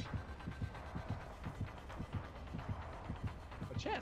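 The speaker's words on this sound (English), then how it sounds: "His heartbeat's so fucking loud here." Loud, steady double-thump heartbeat of the killer closing in during a Dead by Daylight match, pulsing rhythmically about twice a second over a low throbbing hum, with faint game sounds near the end.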